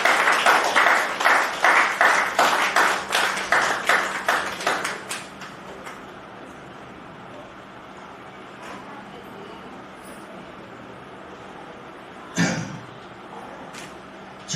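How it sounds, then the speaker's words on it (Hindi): Rhythmic group clapping from an audience at a poetry festival gathering in Palam, Delhi, loud and regular for about five seconds before fading to sparse claps and room noise, with one sharp knock later. "भाई जोरदार तालियां बजाइए।"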